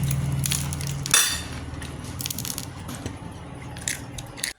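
A crisp crunch of biting into crispy pork knuckle (crispy pata), followed by quieter chewing and small crackling sounds up close.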